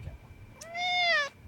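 A kitten gives a single clear, rising-then-falling meow, close and fairly loud against a quiet room.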